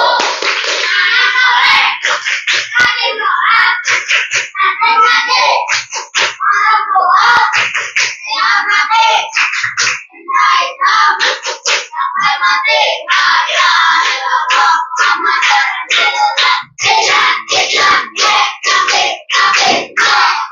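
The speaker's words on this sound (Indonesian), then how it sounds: "Satu kali tepuk anak soleh." A classroom of children claps the 'tepuk anak soleh' rhythm together, loud rhythmic hand claps mixed with chanting young voices running continuously and close.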